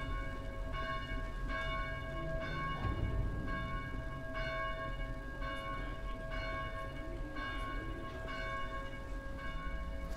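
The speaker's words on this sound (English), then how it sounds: "Maybe you can figure out how to silence those blasted bells." Church bells ring from a belfry in the video game Dead Island, repeated tolls striking roughly every second over a low rumbling background, sounding somewhat distant and steady.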